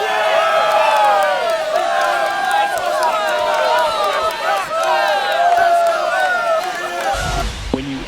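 Home crowd roaring and cheering after a walk-off home run in extra innings in the MLB 25 baseball video game, dense loud sustained cheers and whoops, with a short thump near the end.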